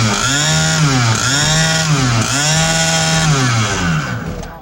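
Hot rod mixer with a 350 Hemi engine and an expansion-chamber exhaust, running loud and close with a rough, buzzy idle that swells and dips in repeated revs.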